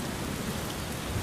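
Steady rain falls in a night scene from a Legend of Zelda fan movie, a continuous broadband hiss of drops on surfaces with no voices over it.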